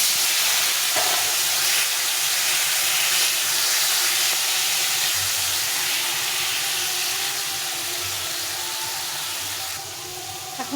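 Spices for a pumpkin curry, cumin and chili powder with a splash of water, cook in a pan with a steady loud hiss and sizzle that fades slightly near the end.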